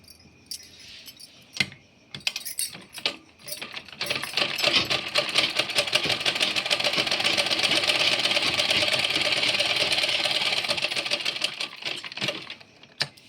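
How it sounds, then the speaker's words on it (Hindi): A sewing machine stitches a trouser pocket, a few short starts and stops giving way to a long steady rattling run that ends abruptly, close and fairly loud. "इसको पहले हम इस तरह से सिलाई लगा लेंगे नीचे की तरफ"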